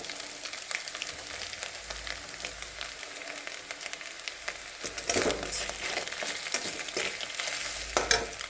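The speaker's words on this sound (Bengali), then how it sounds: "ভালো করে বেছে এটাকে আমি তেলে ভালো করে একটু ভেজে নিচ্ছি।" Dried fish sizzles in hot oil in a pan, a steady crackling fry that swells louder midway with bursts of stirring and spatter; no talking.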